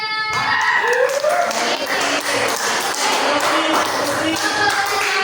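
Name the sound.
class applause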